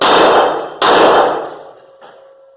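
Two loud shots from a Caspian 1911 pistol each ring a steel target, sharp clangs with long metallic decay, followed by a fainter ping.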